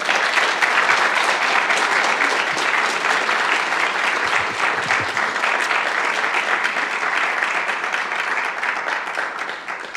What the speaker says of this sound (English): Please give them a massive round of applause.